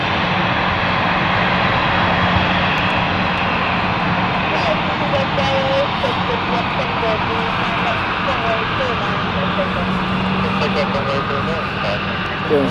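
An airliner sits on the runway at London City Airport, its engines giving a steady, distant roar and whine throughout, while a person talks over it.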